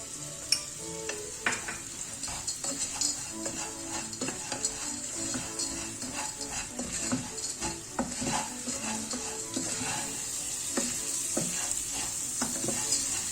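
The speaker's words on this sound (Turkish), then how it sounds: "Şimdi yağ eriyene kadar karıştırıyorum sürekli." Fat being stirred in a pot on the stove until it melts, with a steady sizzle underneath repeated scraping and clinking of a spoon against metal, close and continuous.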